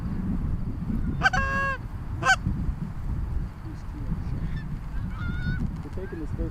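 Flock of geese honking over a North Dakota goose hunt, with two loud bursts of layered honks up close followed by scattered fainter calls over steady outdoor background noise.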